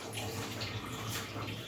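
Water poured into a cooking pan while frying mustard paste for an eggplant dish, a steady, soft rushing and sizzling wash with no talk.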